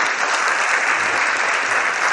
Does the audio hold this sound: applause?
yes